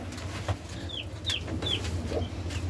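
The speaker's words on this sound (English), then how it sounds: "You can hear the peeping of the little chicks that we put in the other night." Baby chicks in a chicken coop give several short, high peeps at fairly regular intervals, faint against a low hum and light background noise.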